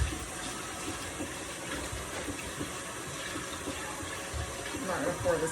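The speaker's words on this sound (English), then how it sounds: "I'm gonna pour just a little bit in because we're gonna see how it works first." Cream being poured in a small amount into a butter-making machine, a soft continuous liquid pour running steadily close by, with a faint rise in the pouring near the end.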